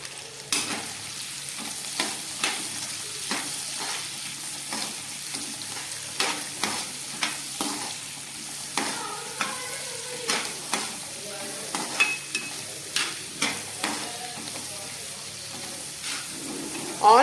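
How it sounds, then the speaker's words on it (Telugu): Onions, green chillies and cumin frying in hot oil in a kadai, a continuous close sizzle broken by repeated soft scrapes and knocks of stirring, with no talk. "కడాయిలో ఆయిల్ వేసి బాగా కాగాక ఆనియన్స్, పచ్చిమిర్చి, జీలకర్ర వేసి బాగా ఫ్రై చేసుకోవాలి"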